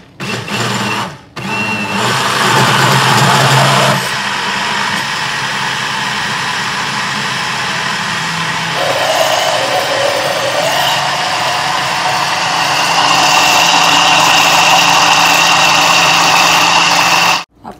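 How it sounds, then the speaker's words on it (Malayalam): A mixer grinder whirs loudly at close range while blending instant idli batter, running in several bursts with changes in pitch and pauses between, and no speech. "ഇനി നമുക്ക് മിക്സി ഓൺ ചെയ്യാം."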